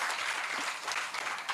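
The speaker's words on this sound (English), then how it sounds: "I need to hear the loud claps." Audience at a school annual day event clapping loudly and steadily, a dense, continuous wash of applause with no talk.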